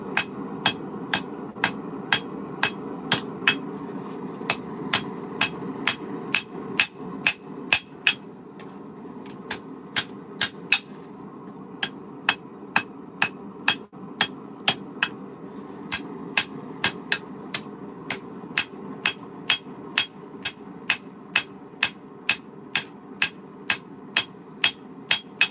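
A hammer strikes hot steel while a chef's knife edge is forged and thinned, giving sharp ringing blows in a steady rhythm of roughly two per second with a brief pause midway, loud and close over a low shop hum.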